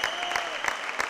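Brief burst of crowd applause at a basketball game, a dense patter of clapping with some voices mixed in the background.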